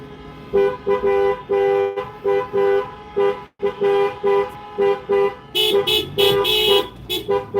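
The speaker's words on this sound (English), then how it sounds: "I do like the sound of a lot of horns, I have to say." At a taxi protest in Dublin, many car horns honk in repeated short and long blasts, loud and overlapping in an uneven rhythm, with denser honking toward the end.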